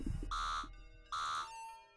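Cockpit alarm in the video game Adrorium, two sustained electronic buzzer tones separated by a short gap, loud and steady with a fainter lingering tone afterward.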